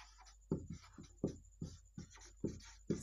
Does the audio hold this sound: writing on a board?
yes